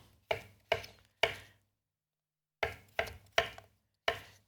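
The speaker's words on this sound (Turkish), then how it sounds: "patateslerimi doğramakla başlıyorum" Knife strikes on a cutting board chopping potatoes into cubes, three quick chops, a pause, then four more; crisp, close and isolated.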